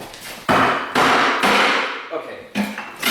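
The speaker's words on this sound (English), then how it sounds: "we need a claw hammer" Loud, close claw hammer blows land in a run of four or five heavy strikes about half a second apart, each a sharp thud with a ringing tail, as voices talk over the work.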